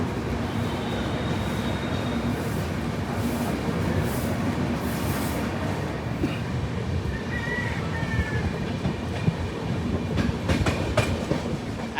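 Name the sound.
12353 Howrah LalKuan Express train departing Bardhaman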